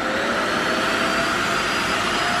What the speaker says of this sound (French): Et grâce à cet aspirateur, mes sols sont toujours propres.